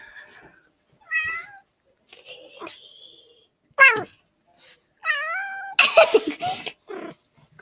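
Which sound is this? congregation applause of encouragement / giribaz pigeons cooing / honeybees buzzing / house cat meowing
house cat meowing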